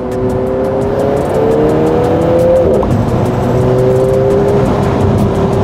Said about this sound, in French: on entend vraiment le turbo et la voiture bien respirer